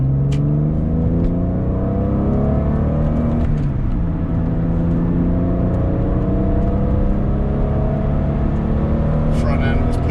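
A 2000 Porsche 996 C2 Cabriolet pulls hard up an on-ramp on cold tires, its engine note climbing steadily through the gears, loud and close from inside the cabin throughout.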